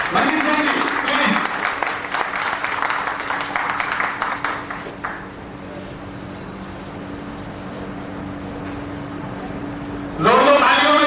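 An audience at a company event claps to welcome a speaker, applause filling the first half before dying away to a steady hum, then talk resumes.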